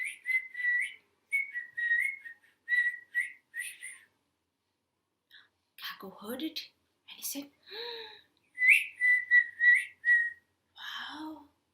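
A voice whistles an imitation of a nightingale's night song in short warbling phrases, broken by a few spoken words in the middle before the whistled trills return.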